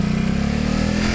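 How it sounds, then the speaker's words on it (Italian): A Ducati motorcycle engine roars loud and close in a sustained, rough drone during a burnout, with no talking. "mo gli faccio un burnout, aspetta"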